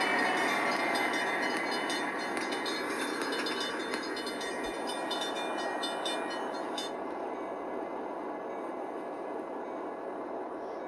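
A Santa Fe local freight train rolls past in the Trainz 3 railroad simulator. Its steady, loud rumble and rail noise fill the whole stretch, easing slightly toward the end, with no talking.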